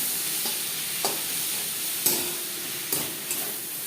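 Red amaranth greens with peanuts and bori are stirred in a pan, giving a soft steady sizzle with a few distinct scrapes and taps of the utensil, close and moderate in level, with no speech.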